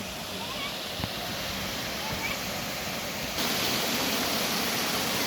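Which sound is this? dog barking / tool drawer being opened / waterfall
waterfall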